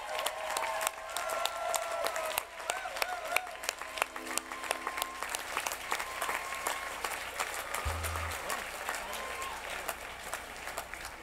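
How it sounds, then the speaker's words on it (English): An audience applauds at a BMO Bank of Montreal charity gala for the People's Choice Award, dense steady clapping filling the room for over ten seconds with some crowd noise mixed in. "So let's give him our People's Choice Award round of applause right now."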